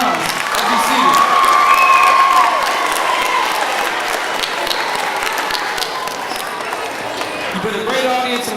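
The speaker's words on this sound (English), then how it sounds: "Give yourselves a round of applause as you see it." Applause and cheering from a school audience of children at an elementary Black History Month panel, a dense sustained clapping crowd that swells early and then holds steady throughout.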